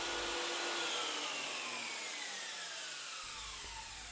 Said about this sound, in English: The soft start feature means the saw kicks into life gently